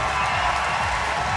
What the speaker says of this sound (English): Big cheer for